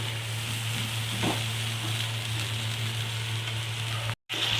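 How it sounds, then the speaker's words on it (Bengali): Pointed gourd curry with milk simmers in a pan, giving a soft, steady sizzle with a faint stirring scrape early on and a brief cutout near the end. "দুধটাও আমি এর মধ্যে দিয়ে দিলাম দিয়ে ভালো করে নাড়তে থাকলাম"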